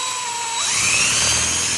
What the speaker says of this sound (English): So the first thing you want to do is you want to drill out the handle.